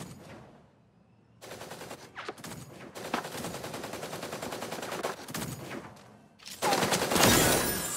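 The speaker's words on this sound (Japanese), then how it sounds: "銃声が聞こえた。" Rapid bursts of automatic gunfire rattle in loud sustained volleys with short gaps of quiet between them, then a harsher, brighter burst near the end.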